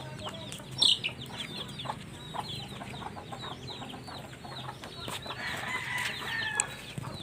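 Chickens kept alongside ducks on a backyard farm cluck steadily, with a rooster crowing near the start and a brief crow later, amid constant outdoor ambience and no talking.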